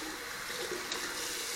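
Hot water runs steadily from a tap to wet a small synthetic shaving brush of about a 24 mm knot, a continuous close hiss with no talk over it.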